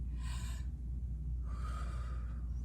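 A deep, slow breath drawn in and let out, a soft airy inhale followed by a longer exhale, close and quiet over low steady background hum.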